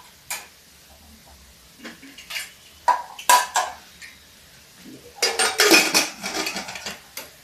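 A pressure cooker lid is set and locked on a home kitchen stove while dal cooks, with scattered metallic clinks and clatters of pots and utensils, sparse at first, then a dense close burst of rattling.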